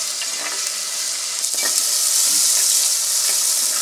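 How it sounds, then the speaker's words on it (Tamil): Onions and tomatoes sauté with salt in a pan for bottle gourd puli kuzhambu, giving a loud, constant sizzling hiss with a few faint stirring scrapes and no talking. "வெங்காயமும் தக்காளியும் இந்த அளவுக்கு வதங்கணும்."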